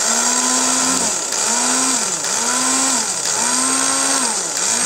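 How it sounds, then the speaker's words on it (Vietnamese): A brand-new small electric spice grinder runs in loud, steady whirring bursts, its motor pitch rising and sagging in a repeating cycle about once per second, heard close with no talking. "Cộng với một cái xay gia vị đây, mới tinh em này, rất là mới."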